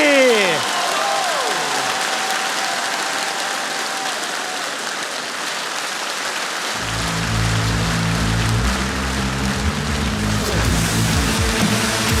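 A stage audience at a Ukrainian comedy league show gives a continuous wash of applause as a team from the Third Separate Assault Brigade comes on. Loud music starts partway through and plays under the ongoing clapping.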